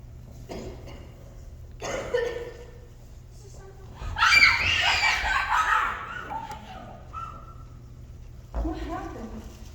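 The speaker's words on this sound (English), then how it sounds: "I heard a scream." A scream in a radio drama bursts out loud and harsh for about two seconds mid-clip, with shorter voiced outcries before and after it, over a steady low hum.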